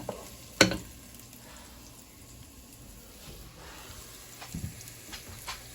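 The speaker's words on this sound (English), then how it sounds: "Stir this up a little bit." Meatloaf soup being stirred in a pot, a spoon scraping and swishing through the liquid with one sharper knock near the start and soft clinks later, over a low simmering hiss.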